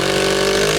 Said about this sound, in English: now I'm going to use a 65 mil chipboard screw